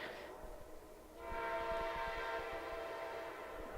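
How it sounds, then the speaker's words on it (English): A train passes at a distance with a sustained horn blast over a low rumble and faint rail clatter, fairly quiet overall. "But here comes the train."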